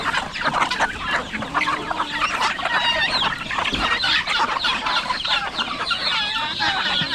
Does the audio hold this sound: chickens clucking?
yes